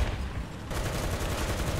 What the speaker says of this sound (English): Shoot my cannon real quick